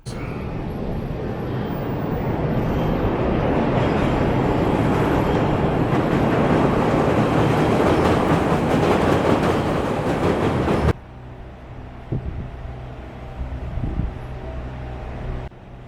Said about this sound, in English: So this is the L, or the elevated train tracks.